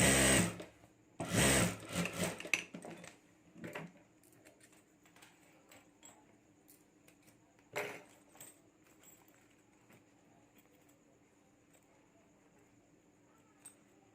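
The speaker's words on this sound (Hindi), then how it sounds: "और यहाँ अभी हमें सिलाई करके जोड़ देना है।" A sewing machine stitches a clutch purse in short loud bursts at the start, then stops, leaving quiet handling clicks and a few isolated taps over faint room noise.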